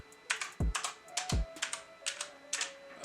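Crisp Gamdias gaming keyboard clicks patter in quick irregular bursts, with a couple of heavier thuds among the keystrokes, close and fairly quiet.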